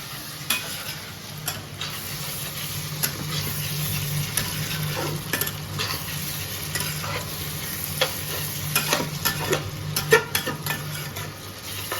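Potatoes frying in a pan for a Bengali ichor (jackfruit) dish, with a steady sizzle throughout and irregular scraping clicks of a spoon stirring against the pan, close and fairly loud, no talking.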